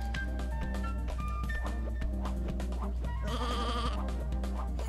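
Sheep bleats from the video game Sheep Raider, heard as short nasal calls over a steady looping game music bed with a bright tonal passage toward the end.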